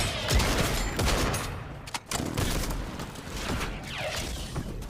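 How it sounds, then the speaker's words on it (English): A goo gun fires in rapid bursts amid the chaos of a Fortnite Horde Rush match, with dense, loud layers of gunfire, thuds and sharp pops running throughout and a brief dip near the middle. "Actually, I guess the goo gun's really quite useful."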